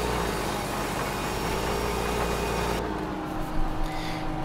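A tractor engine idles in the video game Farming Simulator 2015, a steady, loud mechanical drone that softens and thins partway through, with no talking.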